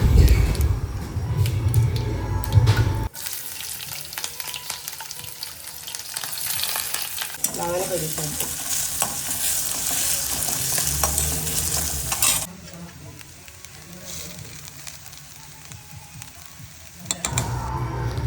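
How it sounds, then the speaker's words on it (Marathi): Poha fries in a hot pan of tempering, a loud, continuous sizzle broken by stirring scrapes. The intensity shifts across several stretches as the flakes are tossed, with no talking. "पहिले पोहे फोडणीला टाकून घेते"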